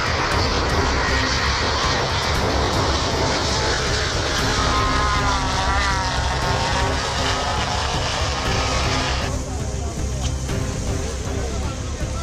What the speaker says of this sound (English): Another example of a 787 coming in at a Boeing test facility. And listen as it flies by